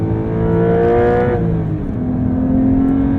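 A 2023 Porsche 911 T with a manual gearbox revs hard, its engine note rising, then briefly dipping and swelling again as the throttle is blipped to match revs on a downshift, loud and close with no voices.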